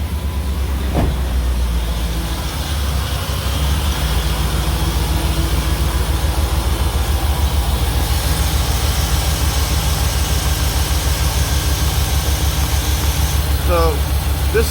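Loud, steady chugging drone of an engine-driven air compressor running and building pressure, with a constant rapid low throb held close for the whole stretch and a brief voice-like chirp near the end.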